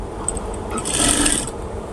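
A domestic sewing machine stitches fabric for a girl's child-size pants in a short, steady mechanical whirr that swells briefly in the middle before easing off, with no voice over it.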